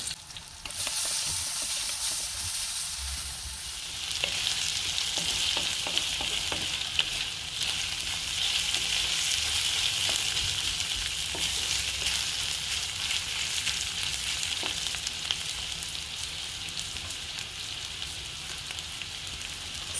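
Onions frying in a pan with curry leaves and garlic ginger paste for a kofta curry, a steady bright sizzle with occasional stirring scrapes and small pops, close and continuous throughout.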